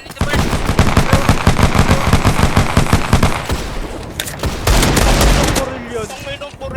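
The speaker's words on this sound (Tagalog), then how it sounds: "Si Divorce putik, solid yung baril" Rapid bursts of automatic gunfire rattle loudly and fast, then pause before heavier shots and a boom; game-like and close.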